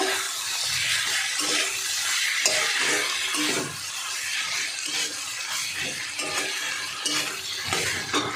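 A spoon stirs salt through a shrimp and snake gourd curry in a pan, giving dense, continuous scraping and wet churning over a soft sizzle, close and fairly loud throughout.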